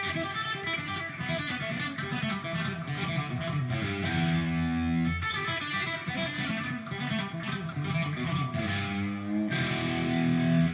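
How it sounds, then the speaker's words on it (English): An electric guitar with a low-gain, crunchy distortion plays continuous rock riffs and chords, loud and close with no talking. "my distortion tone is not like, a lot of rock players like to get that really high gain and stuff"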